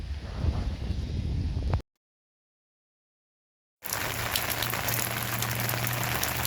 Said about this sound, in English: Just some light rain here for now.